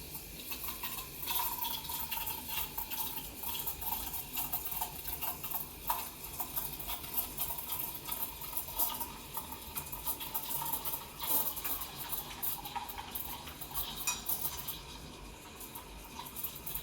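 A Breville Dual Boiler BES920 steam wand steams milk for a latte, giving a continuous close hiss with a faint whistling tone and soft ticking, steady throughout without talk.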